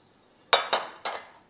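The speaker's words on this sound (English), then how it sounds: "Cooking pot, Trangia with the handle, all lightweight." Lightweight Trangia camping cookware, a pot and frying pan, knocked together in three quick metallic clatters with short ringing tails, close and fairly quiet against near silence.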